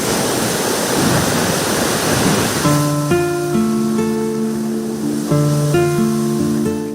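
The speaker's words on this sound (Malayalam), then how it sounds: "കടല് പിന്നെന്ന് പറയുന്നത് അങ്ങേ ആണ് കടലിൻ്റെ തിരയടിക്കുന്നത്" Sea waves break on the shore of an eroding stretch of the Alappuzha coast in Kerala: a steady broad surf roar throughout, with melodic music joining partway through and no speech.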